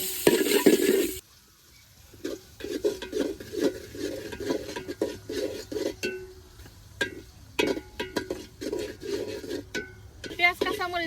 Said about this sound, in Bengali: পেঁয়াজ কাঁচামরিচটা ভালোভাবে ভেজে দিব।